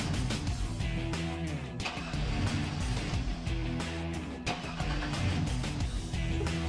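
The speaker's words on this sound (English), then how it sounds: "You can start the vehicle and allow the pressure to bleed off" A car engine runs steadily at a moderate level throughout, a continuous mid-pitched hum with no distinct start or rev changes.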